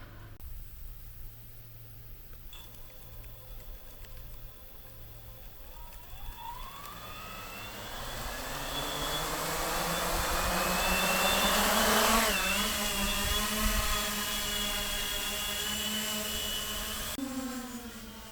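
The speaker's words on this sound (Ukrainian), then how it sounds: "Зараз попробуємо перше його тестування, перший політ." A 13-inch FPV drone with KV-rated motors spins up for its first test flight, its motor whine rising in pitch into a loud, sustained buzzing drone, then dropping abruptly near the end.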